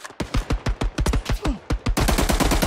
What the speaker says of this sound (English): I feel they're shooting at me